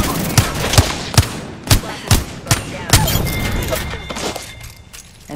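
Gunfire in the battle-royale game Apex Legends: a run of sharp, loud shots cracks out at roughly half-second intervals, then thins to a softer rumble of distant firing near the end.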